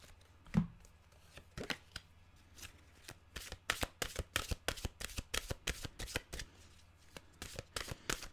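Oracle mantra cards are shuffled close by in a quiet room, a soft flurry of crisp riffling slaps and flicks in quick repeated bursts after one louder opening tap.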